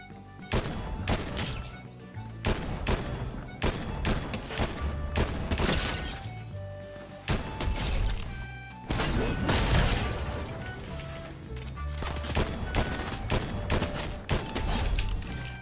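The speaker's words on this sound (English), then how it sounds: "I missed all my shots." Gunfire in the video game Fortnite, repeated sharp shots in bursts and rapid volleys with a few heavier impacts, loud and close, with pauses between clusters and no talk.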